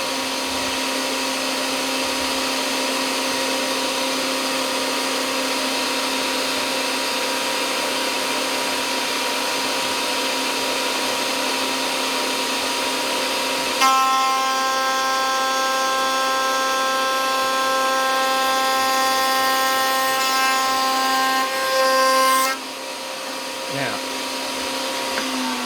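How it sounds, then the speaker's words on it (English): An MDF-working machine runs steadily with a loud, even whine and hum, changing pitch partway through as it spins up, then cuts off near the end, with no extractor running. "I am now going to plug the machine in and turn it on."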